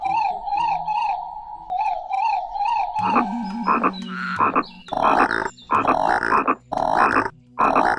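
A cartoon character imitates a frog with his voice, giving rhythmic, buzzy croaks in repeated bursts, first in quick sets of three and then in longer, louder pulses.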